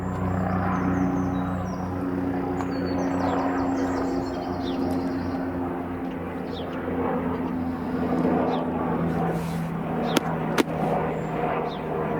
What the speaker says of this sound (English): now that helicopter's gone